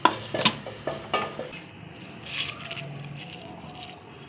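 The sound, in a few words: sesame seeds being roasted golden brown in a pan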